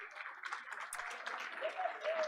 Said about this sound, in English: Let's give all our Indian Springs High School honorees another round of applause.